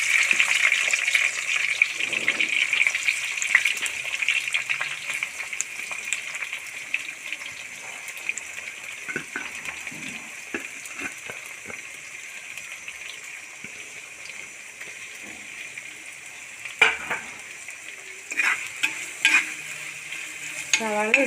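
Chopped onions frying in hot oil in a pan for a Kuttanadi-style duck curry, a steady sizzle with stirring scrapes and a few louder bursts of spatula clatter near the end.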